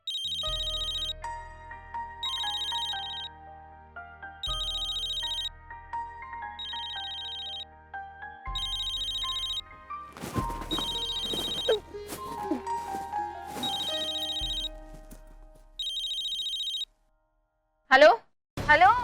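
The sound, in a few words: telephone ringing repeatedly at midnight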